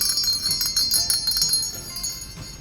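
A bell rings with a bright, sustained, shimmering tone and soft repeated strikes, fairly faint, with no voices.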